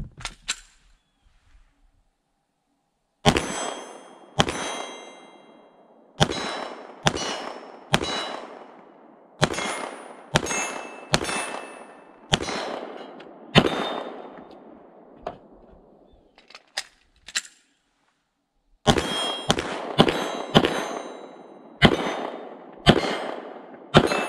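Springfield Armory Echelon pistol fired from about 15 yards, a series of sharp, loud reports in uneven clusters with short pauses between strings, each crack ringing briefly before fading.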